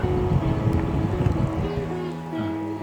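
A small rechargeable portable camping fan with larger blades, recently repaired after a charging fault, whirs steadily and close up, a constant breathy motor hum with no pauses.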